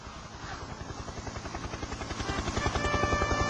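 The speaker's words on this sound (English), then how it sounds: "Just then, Harold the helicopter arrived." Helicopter arriving in a Thomas and Friends story: a rapid rhythmic rotor chop that grows steadily louder as it approaches, with no voices over it.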